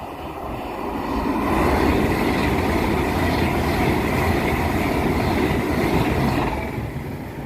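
A fast train rushes past a country lane level crossing, a loud sustained roar that swells within a second, holds for several seconds, then begins to fade.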